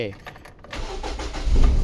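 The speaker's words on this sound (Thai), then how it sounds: "เดี๋ยวผมจะสตาร์ทเครื่องให้ลูกค้าได้ฟังเสียงนะครับ" A Toyota Altis with a 1.6-litre engine cranks and catches, the rumble building and growing louder toward the end of the short clip.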